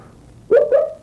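A tuba plays a piece in an extremely high register, imitating a canary with two short bright chirping notes, close and fairly loud after a brief quiet start.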